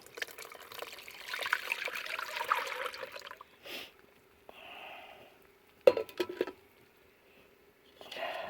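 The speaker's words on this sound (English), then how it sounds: "So let me pour it through the strainer." Freshly squeezed lemon juice is poured through a strainer while canning strawberry lemonade concentrate, giving a soft trickle and splash that stops and starts with brief handling clatter, faint and close.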